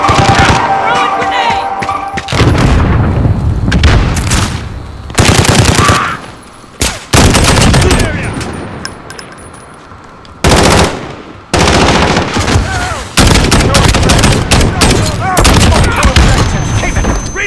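Rapid automatic gunfire from the video game Modern Warfare comes in loud, sustained bursts separated by short pauses, with occasional heavier shots and someone talking in between.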